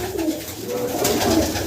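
Pigeons, red dobaaz and kalsari birds, coo in a loft setup, low throaty burbling calls close by, several overlapping soft coos in a short run.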